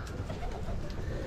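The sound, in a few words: pet pigeons cooing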